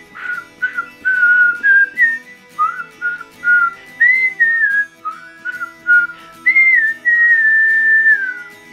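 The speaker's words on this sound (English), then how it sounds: "can you whistle us a tune?" A person whistles a simple melodic tune alone, clear and close, in short phrases with brief pauses and a longer sustained phrase at the end.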